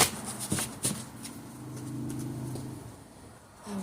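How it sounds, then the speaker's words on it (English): A deck of playing cards is shuffled in a few short riffles, with soft crisp bursts near the start and end. "I'm going to shuffle this deck 13 times"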